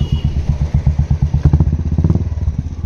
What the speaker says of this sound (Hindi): बहुत ही सूथिंग साउंड आ रहा भाई इस वाली शार्क एग्जॉस्ट का